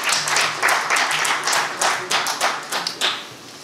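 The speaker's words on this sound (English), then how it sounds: "A round of applause for you." A small audience claps at an event in Oyo State, a brisk patter of individual hand claps close by that swells, then thins and fades toward the end.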